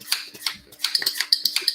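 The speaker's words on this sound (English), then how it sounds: "You hear that clicking noise?" Quick, rhythmic plastic clicking from a wine vacuum pump stopper being worked on a wine bottle, a close run of sharp ticks with brief pauses between strokes.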